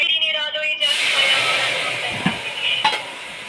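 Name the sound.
cumin seeds sizzling in hot white oil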